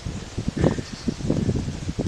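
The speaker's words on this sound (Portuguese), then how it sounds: "O vento está ajudando nós." Wind pushes through nearby leaves in gusty, uneven bursts of rustling and low buffeting, moderately loud and close.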